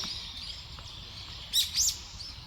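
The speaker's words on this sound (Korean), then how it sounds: "새소리는 잘 들리죠?" Birds chirp outdoors over a soft background hiss, a thin high twittering topped by two brief, louder chirps near the end.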